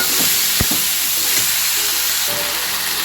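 Tomato sautéed with onion and brinjal in a pan for a brinjal kadayal side dish, a loud continuous frying sizzle with a few thumps of stirring near the start.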